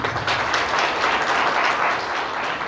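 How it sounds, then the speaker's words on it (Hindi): Loud, dense audience applause for a poet just after a recitation, a thick unbroken wash of many hands clapping close by, with no speech over it. "तो एक बार जोरदार तालियां हो जाए सर के लिए"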